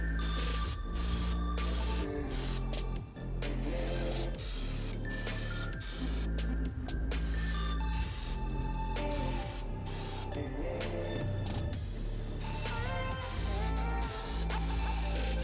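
Plastidip rubber coating sprayed from a can onto components makes a continuous loud hiss, close by and unbroken apart from one short dip.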